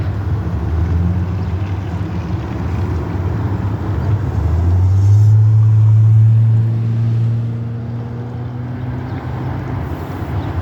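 Cars, among them a black Mazda and a Hyundai, rumble past at a traffic intersection, a close engine and tyre swell rising in the middle before easing off, with no talking.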